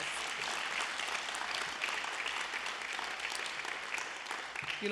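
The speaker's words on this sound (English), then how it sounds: "So give his support team another round of applause." An audience at a county department director's swearing-in ceremony claps for his support team, a dense, even wash of applause that holds steady throughout and sits somewhat distant.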